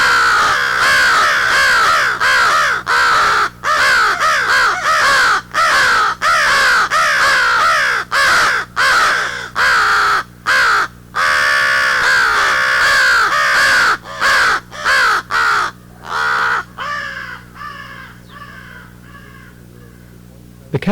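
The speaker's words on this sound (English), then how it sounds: "They are American crows." Several American crows in a tree over a cat at the edge of a woodlot caw loudly and raucously, near and almost nonstop, with calls overlapping before fading toward the end.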